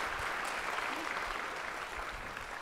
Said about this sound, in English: let's give Amanda applause